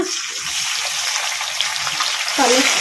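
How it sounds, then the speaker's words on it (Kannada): Tomatoes fry in a pan over a medium flame for an egg masala gravy curry, a loud, continuous sizzle with soft stirring scrapes that grow busier near the end; no voices. "ಟಮಾಟ ಚೆನ್ನಾಗಿ ಮೆತ್ತಗೆ ಫ್ರೈ ಆಗೋವರೆಗೂ ಫ್ರೈ ಮಾಡ್ಕೋಬೇಕು ಮೀಡಿಯಮ್ ಫ್ಲೇಮಲ್ಲಿ"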